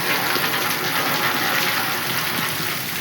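Water flowing on a farm after sudden overnight rain: a loud, dense, steady rushing gush close by with no pauses and no talk.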